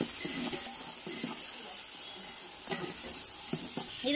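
Shallots and tomatoes sizzle in a pan while being mixed, a soft continuous hiss with faint scraping and stirring taps scattered throughout.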